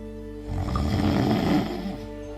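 A person snores once: a single rough, close breath that swells and fades over about a second and a half against quiet background noise.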